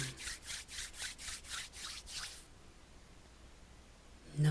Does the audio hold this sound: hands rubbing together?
yes